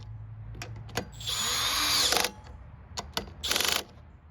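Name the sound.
drill tightening carburetor bolt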